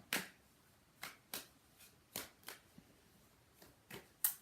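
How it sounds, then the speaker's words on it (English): Close, quiet bursts of oracle cards being shuffled, about eight short riffles spaced irregularly over a few seconds with near silence between them. "And shuffling."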